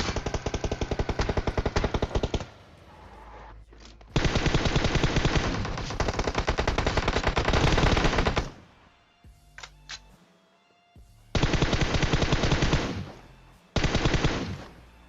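Rapid automatic gunfire rattles in long, loud bursts, broken by brief pauses and a few isolated shots, typical of a PUBG firefight.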